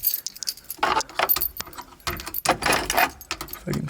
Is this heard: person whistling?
no